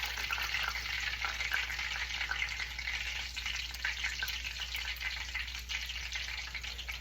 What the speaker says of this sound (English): So we let the other two just fry a few more minutes